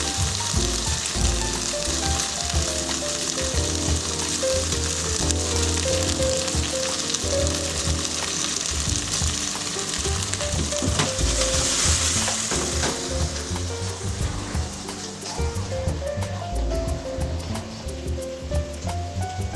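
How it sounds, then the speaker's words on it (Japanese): Green onions hit a hot frying pan while cooking twice-cooked pork, giving a steady, loud, continuous sizzle and crackle with light stirring throughout, no talking. "はい、そしたらね、ここにネギ入れます。"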